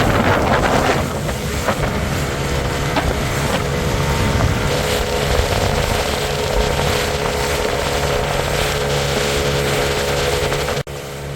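Boat ride on the open sea off the coast near Collo, Skikda, Algeria: a steady outboard motor drone mixed with strong wind buffeting the microphone and water rush, continuous and close throughout.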